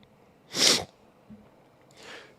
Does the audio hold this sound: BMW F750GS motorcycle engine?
no